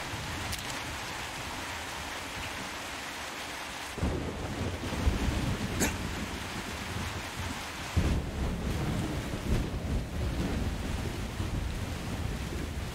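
Heavy rain pours in a thunderstorm in the video game Metro Exodus, and thunder rolls in loud, sudden surges around four and eight seconds over a constant roaring downpour, with no speech.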